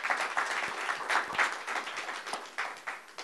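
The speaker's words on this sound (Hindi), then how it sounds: "उनके लिए ताली बजाइए." Brisk, continuous clapping rises from an audience at a film event for The Battle of Bhima Koregaon, honoring the lead actor Arjun Rampal, with no talk over it.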